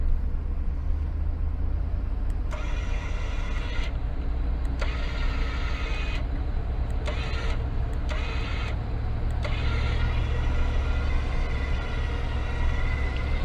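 A Jeep's engine strains steadily while pulling a huge stuck truck, a loud, continuous motor drone with intermittent higher whining surges layered on top and no speech.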